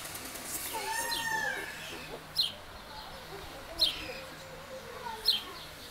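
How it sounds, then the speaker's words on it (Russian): Birds call in a zoo enclosure in Augsburg, with sharp, loud chirps recurring about every second and a half over a murmur of distant voices and children in the background. "А здесь находятся вот такие вот птицы."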